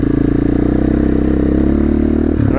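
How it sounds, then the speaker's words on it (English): A motorcycle engine runs steadily at a constant idle-like throb, loud and close, with a brief rattling change near the end. "this is about the sound the motorcycle would be making if I was riding it normally"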